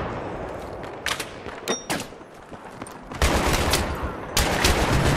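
Gunfire in Battlefield 3 comes in scattered sharp shots early, then two loud, dense bursts of fire later on, with no talking.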